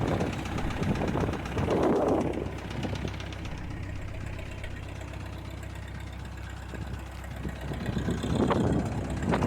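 A 1951 Ford 8N tractor engine idles steadily with a low, even chugging throb, close and continuous throughout, with a few slightly louder surges near the start and end.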